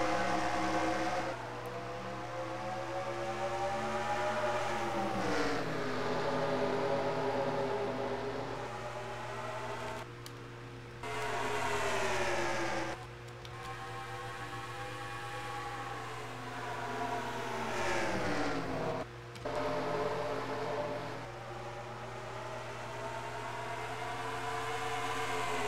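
Race cars in a NASCAR-style racing video game roar off the start at Phoenix, a loud, continuous engine drone with rising and falling pitch sweeps as the pack accelerates and shifts, steady throughout with no talk.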